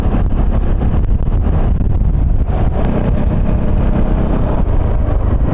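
Motorcycle cruising along a scenic road at the foot of Mount Arayat, its engine a steady loud drone buried under heavy wind buffeting on the microphone, with no talk.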